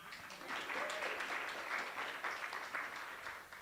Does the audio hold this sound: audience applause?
yes